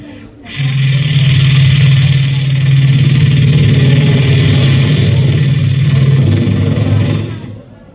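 A man imitates a helicopter flying in the sky, holding a loud, continuous buzzing drone with a fast flutter for several seconds before it tapers off.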